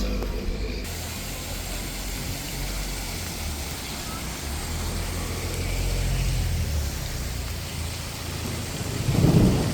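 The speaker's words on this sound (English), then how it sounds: "The rain started pouring very heavily" Heavy rain pours down in a dense, constant hiss in Florence, Italy, with a low thunder rumble swelling near the end.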